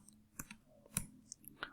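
A few quiet, scattered clicks of computer keyboard keys being pressed for an Alt plus Enter shortcut, soft and close, with irregular spacing over a short moment.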